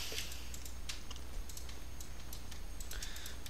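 Quick, light keystrokes on a new computer keyboard tap out an uneven run of soft clicks, faint and close against a steady low hum.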